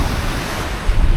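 Sea waves wash against the shore at Kilnsea on the East Coast at dark, a steady loud broadband surf roar mixed with wind buffeting the microphone, swelling slightly toward the end, with no voices.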